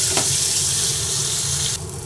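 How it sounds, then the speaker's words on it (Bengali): Chopped onions frying in plenty of hot oil left over from frying catla fish, a loud, continuous close-up hiss and crackle that drops suddenly in level near the end. "এবার এই তেলের মধ্যে আমি কুচানো পেঁয়াজ দিয়ে দিলাম।"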